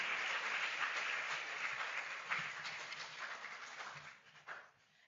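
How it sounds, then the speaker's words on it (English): An audience at a graduation ceremony for the African Science Academy class of 2025 applauds as one dense, steady wash of clapping, which thins and fades out near the end. "Another round of applause for them"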